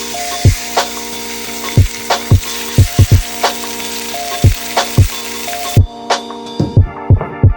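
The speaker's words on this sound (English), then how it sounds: "I have my salmon here, pan-seared" Salmon sears in a hot pan with a steady, loud sizzle, punctuated by a series of sharp knocks and taps from the pan or utensil, and a soft tonal background that cuts out near the end.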